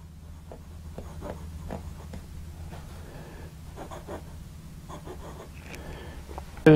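A clear acrylic Lecai pocket fountain pen with a medium nib scratches softly across paper in short, faint strokes over a low background hum, ending with a sharper click.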